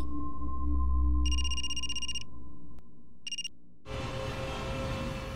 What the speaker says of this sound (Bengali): কার ফোন?